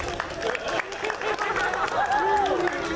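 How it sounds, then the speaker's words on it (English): Crowd applause and cheering at a comic con cosplay contest in Fresno, a busy spread of clapping and crowd chatter with a whistle rising through it and a voice talking over the room. "Round of applause for Baby Flash, everyone."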